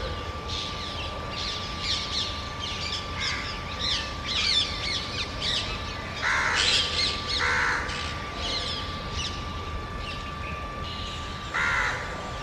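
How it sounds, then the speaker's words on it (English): A crow caws repeatedly in short bursts at a moderate distance from tree branches during the dawn chorus, with quieter birds chirping in the background over a steady low hum. "Now that crow in the branches of the tree right opposite me has started to"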